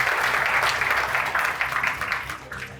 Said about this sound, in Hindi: सब तालियां बजाएं उनके लिए